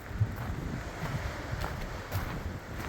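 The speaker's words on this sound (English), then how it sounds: "It's still windy as all get out down here." Steady wind rushes and buffets against the microphone on the Continental Divide Trail, a low constant roar with occasional stronger gusts and no speech.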